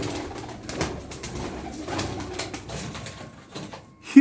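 Young blue pigeons in a loft cooing softly and repeatedly, close by, with low breathy calls over light background rustle and a sharp thump at the very end.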